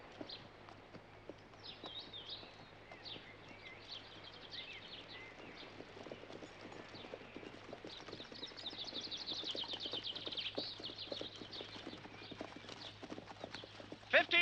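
Horses' hooves clip-clop steadily as they pull a carriage along a road in Civil War-era England, a continuous even rhythm close by, with some talk faintly underneath.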